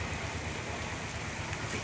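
Steady rain falls outdoors in a dense, even wash of hiss with a low rumble beneath, loud and continuous without a break or any voice.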